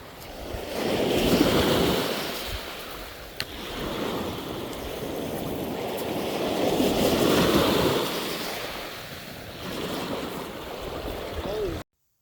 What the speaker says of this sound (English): I left the sound of the waves because that's what drew me